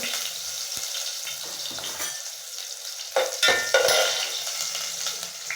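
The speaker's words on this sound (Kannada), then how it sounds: "ಎಣ್ಣೆ ಬಿಸಿ ಆಗಿದೆ ಸಾಸಿವೆ ಹಾಕೊಳ್ಳೋಣ ಸಾಸಿವೆ ಸಿಡಿದಿದೆ ಈರುಳ್ಳಿ ಹಾಕೋಣ" Onions drop into hot oil with spluttering mustard seeds, bursting into a bright, crackling sizzle, with pan and utensil knocks and stirring scrapes that grow louder toward the end.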